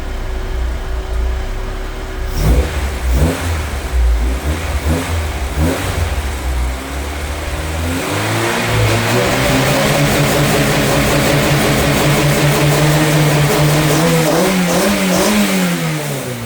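A Honda Civic with a new timing belt and intake cranks and starts, then keeps running with a noisy valvetrain. A rough low rumble gives way to a steady idle with a few revs, loud and close.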